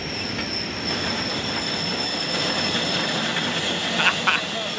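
A steam locomotive rumbles past close by at a station, wheels squealing and clattering over the rails in a loud, continuous roar.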